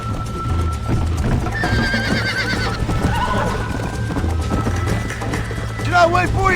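Hooves clip-clop steadily at a gallop while a horse neighs loudly a couple of times, with music and voices in the background, in the video game Red Dead Redemption.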